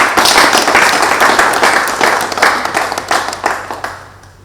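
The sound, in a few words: audience applauding the governor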